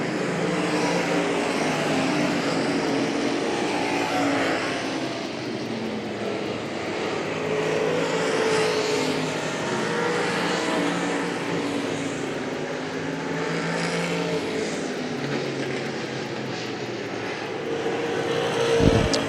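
Dirt track race cars at Hagerstown Speedway roar past in a dense, continuous engine drone, loud and sustained with slow swells as the field circles the oval.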